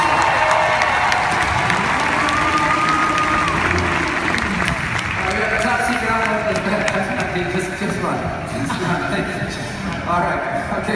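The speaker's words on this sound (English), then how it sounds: "Big round of applause." A large crowd at a live motor stunt show applauds and cheers steadily for the drivers, the dense clapping continuing throughout with voices calling out and an amplified announcer speaking over it.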